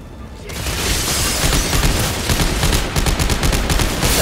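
Gunfire in Dead Space 3, heard as a loud, rapid, continuous stream of shots with booming impacts that starts abruptly and keeps going to the end.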